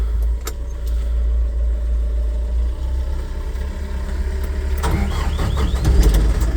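A steady low rumble, then the 3-litre Toyota 1KD inline four-cylinder diesel engine of a 6-tonne Toyota forklift cranks and fires up partway through, settling into a loud, chugging idle close by.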